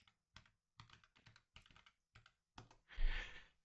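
Password typed on a computer keyboard: a quick series of close, crisp key clicks in short bursts, ending with a louder, broader clatter as the final keys are struck.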